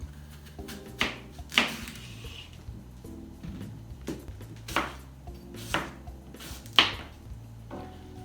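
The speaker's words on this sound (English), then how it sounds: "This is just a small Gala apple that I'm going to slice for you and put it onto our snack plate." A knife slices through a small Gala apple on a board, giving about six crisp, close cuts at uneven intervals over a low steady room hum, with no one speaking.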